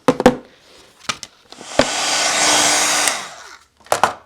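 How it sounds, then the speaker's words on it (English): A heat tool blowing hot air to melt Brutus Monroe Gilded gold embossing powder on a card craft background: a loud, steady hair-dryer roar for about a second and a half, bracketed by sharp handling clicks and taps. "I'm going to heat emboss with some gold embossing powder."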